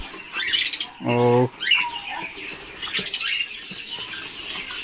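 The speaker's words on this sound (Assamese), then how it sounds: "আৰু বহুত ধৰণৰ চৰাই চিৰিকটি আছে আমাৰ লগত" Birds at a fancy fantail pigeon farm chirp and call in short bursts, with a loud strong harmonic squawk near the start and scattered tweets after, close and clear.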